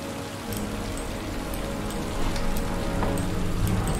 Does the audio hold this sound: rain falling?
yes